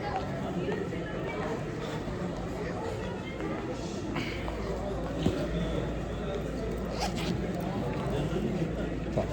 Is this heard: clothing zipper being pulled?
yes